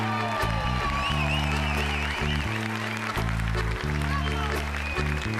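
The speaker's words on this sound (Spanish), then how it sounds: "El aplauso fortísimo para el grandísimo Eneko Irigoyen." Applause from a live concert audience in Irún, heard alongside loud band music with sustained low brass chords that changes every second or so throughout.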